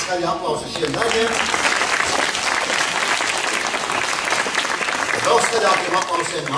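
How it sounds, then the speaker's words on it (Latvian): Sustained audience applause fills the hall at a music school's end-of-year concert, dense and steady throughout, with a brief swell near the end and faint voices mixed in. "Vēlreiz skaļu aplausu šiem darbiem."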